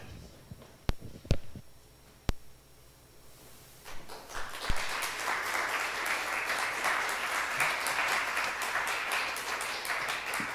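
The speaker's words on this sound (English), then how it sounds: "give them one more round of applause" A few isolated claps are followed by a full audience breaking into sustained applause for symposium speakers at a campus diversity center grand opening, dense and continuous for several seconds.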